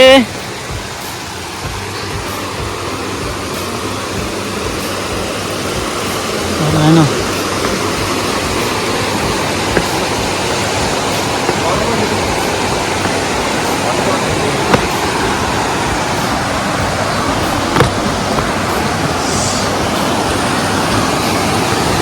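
A steady, broadband rush of falling water at Dumpa Valasa Waterfalls near Maredumilli, Andhra Pradesh, fills the scene without pause, constant and fairly loud, with faint voices occasionally in the background.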